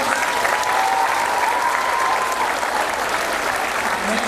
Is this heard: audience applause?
yes